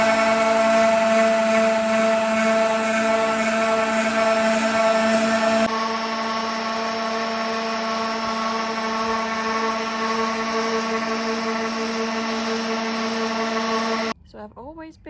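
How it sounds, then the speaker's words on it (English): A power sander works steadily on a pine wooden wall decor piece, a loud, continuous tonal whine with a strong hum that shifts pitch slightly partway through and cuts off just before the end. "So I'm just gonna keep on sanding."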